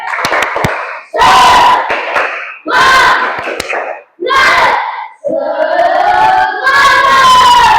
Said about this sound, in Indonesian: kita tepuk semangat dulu. Tepuk semangat.